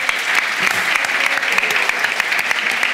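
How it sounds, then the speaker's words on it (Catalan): A crowd claps steadily, dense applause at close range with no pauses throughout. "Vale, molt bé, doncs un aplaudiment"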